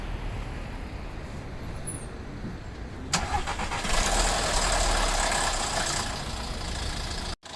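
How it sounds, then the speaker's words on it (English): A VW Golf MK6 cold-starts after a battery change: steady background hum, then the engine cranks and catches, settling into a loud, steady idle that runs to the end. "Now we just got to start up the car, see if it turns on or not."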